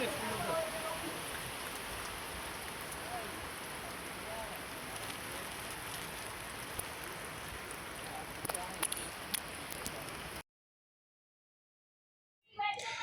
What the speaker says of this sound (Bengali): আকাশটা মেঘলা হয়ে গেল, বৃষ্টি পড়তেছে।